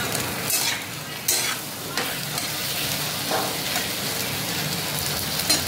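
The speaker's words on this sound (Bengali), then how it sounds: "এইবারে লবণ দিয়ে দিচ্ছি, এবার হলুদ দিয়ে দিলাম, দিয়ে ভালো করে নেড়ে ছেড়ে নেব সবজিগুলোকে।" Vegetables being stirred with salt and turmeric in a frying pan: continuous close sizzling with repeated spatula scrapes and rustling turns, fairly loud and with no voices.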